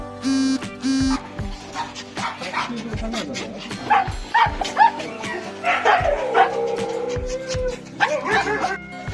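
Several dogs at a breeder's home, including a Shih Tzu and a Chow Chow, bark and yip repeatedly at close range, with some whimpering, while people talk over them.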